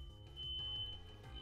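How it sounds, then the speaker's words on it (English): A fire alarm goes off indoors with a thin, high, steady electronic tone over a low background rumble, heard faintly at a distance. "Well, fire alarm's going off."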